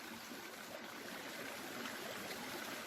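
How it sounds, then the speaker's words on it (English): Water rushing steadily down a rocky mountain creek, a soft, even, continuous babble heard alone at low level. "There's so much water coming down through here."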